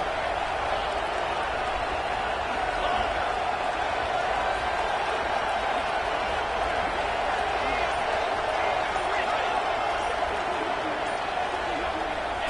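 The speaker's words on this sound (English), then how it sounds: "here comes the noise. This crowd is trying to inspire this defense to make a big red zone stop." Steady roar of a stadium crowd in a college football playoff video game, a dense, continuous wash of cheering noise that holds loud and even throughout with no break, building pressure on the defense near the goal line.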